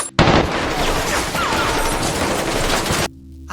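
Dense, loud gunfire from a film shootout after the lights go out in a house, a continuous fusillade of overlapping shots lasting about three seconds before cutting off abruptly.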